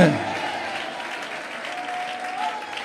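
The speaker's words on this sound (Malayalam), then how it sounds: "കൈയടിക്കുന്നെങ്കിൽ നേരെ കരങ്ങളടിച്ചേ" A church congregation at a Malayalam Christian gathering breaks into sustained applause, a dense, even patter of many hands filling the room, while a voice is briefly heard at the very start.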